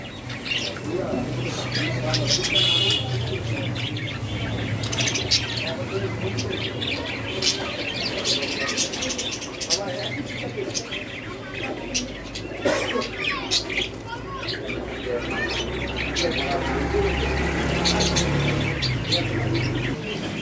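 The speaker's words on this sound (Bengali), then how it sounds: "আরো অসংখ্য পরিমাণ লাভ বার্ড, সরি বাজরিগার।" Budgerigars crowd a bird shop in Cumilla, keeping up a dense, steady chatter of chirps with occasional wing flutters and squawks, mixed with shop noise and faint voices throughout.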